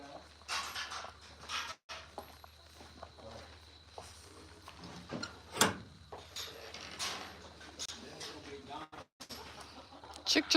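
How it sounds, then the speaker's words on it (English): Chickens clucking on a ranch, intermittent mid-distance clucks and scratchy shuffles with footsteps and background murmur. "Chickens."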